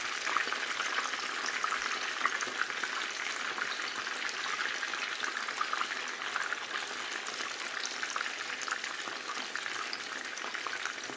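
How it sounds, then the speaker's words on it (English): Chicken kababs fry in hot oil, making a dense, even crackling sizzle that holds steady throughout, close and with no voices. "just continue to fry this until they're nice golden brown"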